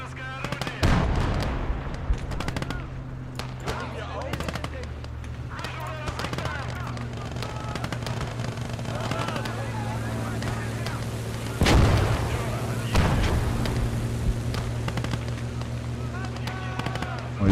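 In Call to Arms – Gates of Hell: Ostfront, an anti-tank gun fires at a Soviet T-34 tank, giving two heavy booms amid a constant rumble of battle and distant shots, with someone talking over it.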